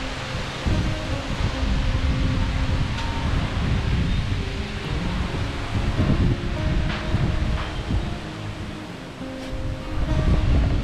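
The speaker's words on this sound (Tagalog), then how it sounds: "Mahangin yung hapon natin. Malakas." Strong afternoon wind in Palawan roars steadily across an outdoor microphone, with rustling leaves and a surf-like rushing that swells and eases over about eleven seconds, no voices heard.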